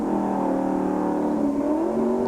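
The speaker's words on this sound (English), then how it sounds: "Little downshift there, coming into the pits." A NASCAR stock car engine in a 1996 oval race drones loudly and steadily, with a slight drop then rise in pitch as it downshifts while entering the pits.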